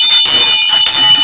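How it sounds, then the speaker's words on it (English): A bell rings loud and sustained in a bright, steady tone, cutting off briefly before ringing again, at a conference opening in a ring-style stage setting. "I'm getting to love this bell so much"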